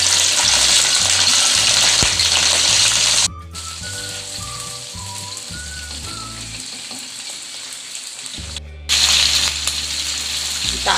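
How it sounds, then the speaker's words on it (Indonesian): Shrimp fry in hot oil for sambal goreng udang, a loud, dense sizzle with stirring, briefly dropping to a quieter bubbling before surging loud again; no one speaks. "Sekarang udangnya mau saya goreng ya teman-teman ya."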